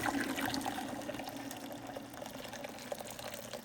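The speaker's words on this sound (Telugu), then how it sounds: "ఇప్పుడు దీన్ని తీసుకొని ఇట్లా బుజ్జి డీప్ పాన్ లో వాటర్ వేసుకోవాలి." Water pours steadily from a tap into a deep pan while cooking pasta, a continuous watery rush that stays fairly quiet throughout.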